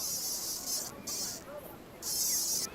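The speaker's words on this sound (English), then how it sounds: "Only males can sing." A male cicada sings in three shrill, buzzing bursts separated by short gaps, high and fairly faint over quiet background, with no clear talking.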